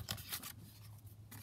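Scissors cut through sheet music paper with a few quick, crisp snips close up, quiet and with no talk.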